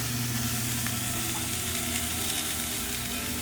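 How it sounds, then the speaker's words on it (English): Peas and cabbage sizzle steadily in a hot frying pan for fried rice, a dense continuous hiss with faint stirring scrapes, fairly quiet and without talk. "We'll go ahead and toss our peas in there for some green color. We're going to go ahead and mix those around"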